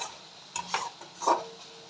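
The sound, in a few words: stirring tangra fish curry in a wok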